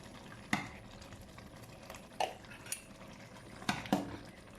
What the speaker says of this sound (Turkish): Kepçe değil de kaşık kullanacağım.